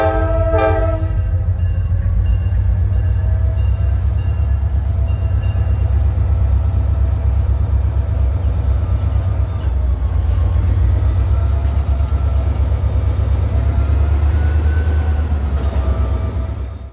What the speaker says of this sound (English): the train coasts through rural Maryland with just a few empty cement hoppers in tow.